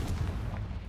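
A Confringo blast spell fired in the Hogwarts Legacy video game, a loud booming burst with a rumbling body that fills the short moment, no voices over it.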